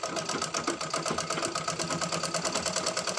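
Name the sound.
child stitching a mask on a sewing machine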